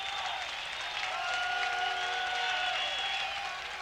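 A football stadium crowd at a 1999 Moeller vs Elder high school game roars and claps in a sustained, dense wall of cheering, steady and fairly loud throughout, with a sharp whistle-like tone rising above it.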